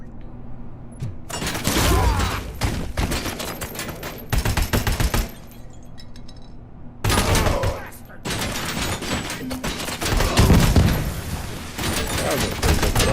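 Bursts of gunfire in the video game Robocop Rogue City, with rapid automatic volleys and loud single shots in several clusters, separated by brief quieter gaps.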